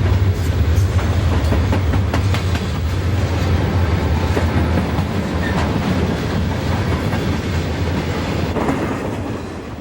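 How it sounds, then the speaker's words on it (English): A long Conrail freight of empty coal hoppers rolls past close by on a busy mainline, its steady heavy rumble and rhythmic clickety-clack of wheels over rail joints continuous and loud throughout. "As the empty hoppers rush east, a westbound freight can be seen over on track 3"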